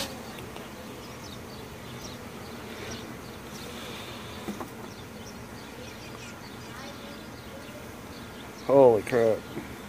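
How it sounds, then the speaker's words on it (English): Honeybees buzzing around an opened hive, a low continuous drone with scattered closer passes, then a brief louder voice near the end. "That's a lot of bees."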